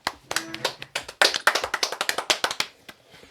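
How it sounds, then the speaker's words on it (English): A small group of people clapping after a song, with quick, close, fairly even claps that fade out over about three seconds and no talk. "Give a round of applause."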